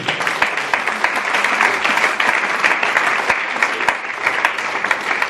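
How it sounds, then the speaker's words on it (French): A church congregation applauding loudly for the Lord, a dense, continuous burst of many hands clapping close by. "Acclame très fort pour le Seigneur."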